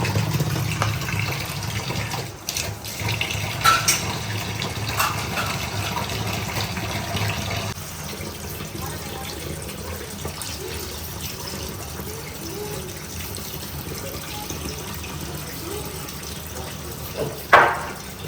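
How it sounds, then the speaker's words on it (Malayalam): Water is poured into a container for washing, giving a close, gushing splash for several seconds. Then it fades to quieter trickles and handling sounds, with a sharp clatter near the end. "ഈ വെള്ളം ഇട്ട് ഇതിനകത്ത് വയ്ക്കാം."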